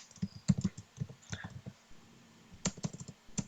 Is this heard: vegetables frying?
no